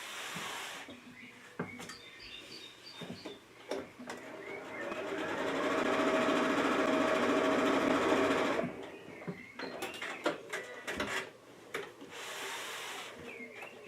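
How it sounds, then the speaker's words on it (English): A sewing machine stitches the seams of a Japanese knot bag, running in a sustained close whir for several seconds, with brief stops and handling clatter before and after. "that's where I'm going to start sewing"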